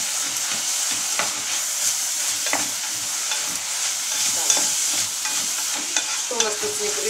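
Vegetables for vegan lazy cabbage rolls frying in a pan while being stirred: a continuous sizzle with repeated scraping stirs and small clinks, close and fairly loud, no speech.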